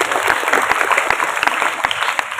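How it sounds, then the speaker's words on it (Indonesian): High school students clap together in a hall during a mayor's school visit, a brisk, close burst of crowd applause with sharp individual claps poking through. "Oke, tepuk tangan."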